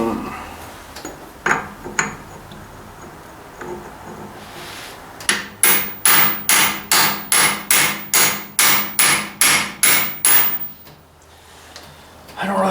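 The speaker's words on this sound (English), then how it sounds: "I might have to get a chisel going here." A hammer drives a chisel on Ford 800 tractor parts: a few scattered knocks, then a rapid, even run of about a dozen sharp metallic strikes close by, with bits of talk between.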